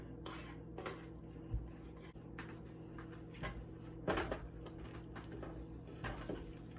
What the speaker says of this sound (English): We're going to mix them around.